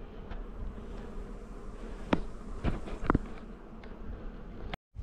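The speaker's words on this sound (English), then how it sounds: "These hives are booming." Honey bees hum steadily around booming beehives, with a few sharp knocks and clicks nearby, then a brief dropout near the end. No talking.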